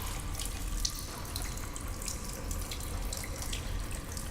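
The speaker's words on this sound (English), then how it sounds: "Liquid from the overflowing sink is splashed onto the floor" Water runs steadily from an overflowing sink in the video game Stasis, a continuous splashing rush with faint drips, fairly close and alone with no talk.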